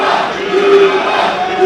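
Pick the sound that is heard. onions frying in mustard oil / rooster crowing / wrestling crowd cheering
wrestling crowd cheering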